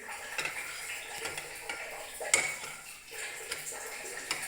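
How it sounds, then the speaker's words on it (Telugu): Radish leaf paratha roasts in ghee on a pan, giving a steady close sizzle broken by scattered light clinks and scrapes of a spatula against the pan. "నెయ్యి వేసుకొని కాల్చుకోండి"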